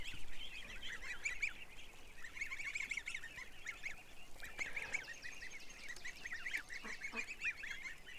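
A group of geese honks repeatedly close by, the calls coming in overlapping bursts over a quiet background.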